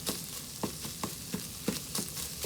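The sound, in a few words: ground sirloin beef sizzling in a frying pan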